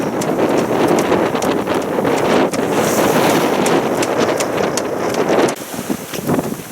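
Strong wind roars across the microphone aboard a sailboat at sea in force 5 to 6 conditions while sailing under the jib, a loud, continuous gusting rush with brief dips, no voices.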